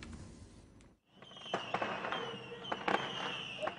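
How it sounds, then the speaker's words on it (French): Fireworks fired at police during a night riot outside the Trappes police station, heard as a burst of sharp cracks and whistling streaks after a brief silence, fairly close and loud over a crowd's background noise. "Des feux d'artifice sont tirés contre les forces de l'ordre."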